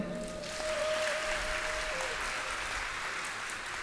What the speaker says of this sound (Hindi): ताली नहीं बजाई तुमने?